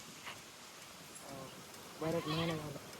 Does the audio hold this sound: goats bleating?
yes